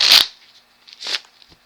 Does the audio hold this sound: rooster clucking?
no